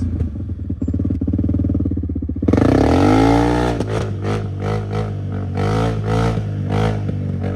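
A Can-Am Outlander ATV with a new exhaust idles with a rough, throbbing burble, then abruptly revs hard into a loud, raspy roar that rises and falls in repeated throttle blips.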